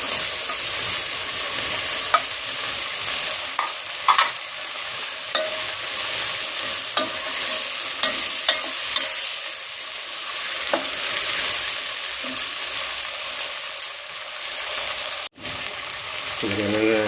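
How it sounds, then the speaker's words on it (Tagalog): String beans, added to shrimp, are stir-fried in a pan, with a continuous even sizzle and frequent light clinks and scrapes of a utensil stirring throughout. "Ilagay na rin natin yung sitaw."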